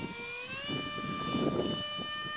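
Wingsmaker Panther DF-032 RC plane flying at slow throttle, a thin whining motor tone holding steady pitch with wind-like rushing underneath, moderately close and continuous.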